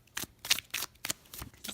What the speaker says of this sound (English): I'm gonna give this a shuffle, and I'm gonna pull us a card.